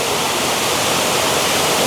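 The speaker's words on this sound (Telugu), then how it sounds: "అక్కడ వాటర్ ఫాల్స్ నుంచి వాటర్ మనకు పడుతున్నాయి" Sirimane waterfall near Sringeri, Karnataka, roars as a dense, steady broadband rush of falling water, loud and unbroken, with no voices.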